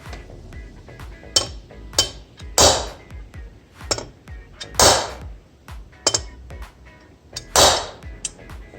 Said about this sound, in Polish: I uderzam młotkiem.